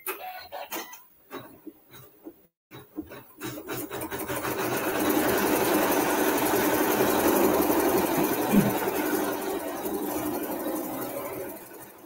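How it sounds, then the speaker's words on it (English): Embroidery machine stitching a quilt block, a fast steady mechanical whir that starts after a few soft clicks and bumps, then runs continuously and close up with no talk. "While that's stitching"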